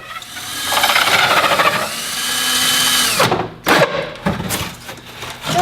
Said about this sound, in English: the Heat and Breeze 5-inch hole saw is all the way through